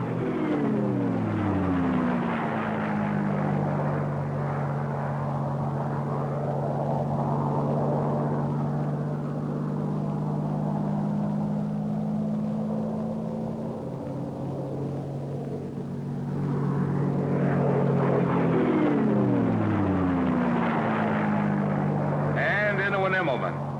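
WWII propeller warplane flying an aerobatic loop, its engine drone steady, then sliding down in pitch and rising again as it passes, with people talking throughout.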